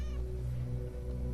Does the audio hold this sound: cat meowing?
yes